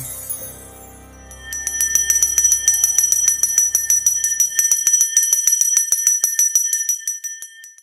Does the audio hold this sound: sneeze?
no